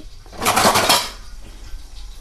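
A metal plate set down over a cooking pot of bitter gourd curry gives one close, bright clatter of ringing metal that fades quickly into quiet room hiss.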